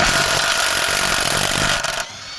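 A Grosser GTW 300 cordless impact wrench with a 30 mm socket hammers loudly and continuously at a nut for about two seconds, then stops abruptly.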